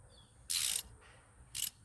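A ratchet turns a deep 13/16 socket on a 1/2-inch extension and reducer at an injector cup of a Ford 7.3 Power Stroke: two short, loud bursts of rapid clicking separated by a quiet pause.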